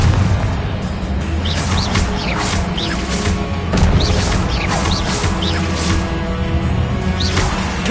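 Confringo spell blasts in the Hogwarts Legacy video game go off repeatedly, loud, near booms and crashes arriving every second or so over dense combat noise, with no talking.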